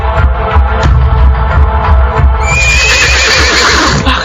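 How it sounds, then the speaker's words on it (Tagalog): Several horses neigh loudly, with a drawn-out, high whinny rising midway over a steady low throbbing hum and a dense rumble of background noise. "Narinig ko na naman ang ingay ng mga kabayo."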